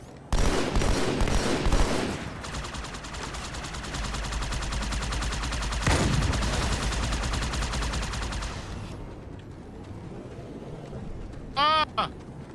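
Rapid bursts of automatic gunfire crackle in the video game Halo 2 on Legendary, dense loud volleys at first, then steadier shooting under the action, with a short high electronic chirping near the end.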